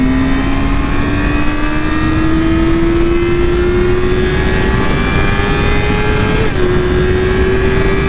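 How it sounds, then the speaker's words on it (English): A car approaches from behind and speeds past a Yamaha R6 sportbike on the road, its engine tone rising steadily under constant loud wind roar, with a slight shift near the end as it draws alongside. "there's a car gaining on me."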